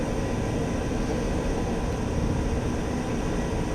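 Steady, loud jet roar of an F-86 Sabre in the DCS flight simulator, climbing out on reduced throttle at about 170 knots with flaps up; a continuous, even broadband rush with no breaks and no voices.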